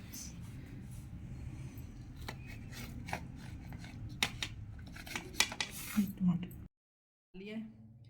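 A knife cuts an omelette pizza in a tray, making sharp clicks and scrapes against the tray under steady talking.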